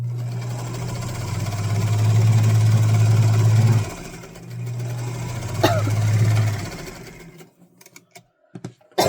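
A sewing machine top stitching a zipper pouch hums steadily in two long runs with a short pause between, close and loud, then stops, followed by a few small handling clicks.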